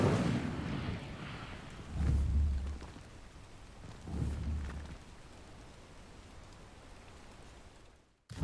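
The Incendio fire spell is cast in Hogwarts Legacy, giving two deep, whooshing bursts of flame that surge up over a steady wash of game ambience before it cuts out near the end.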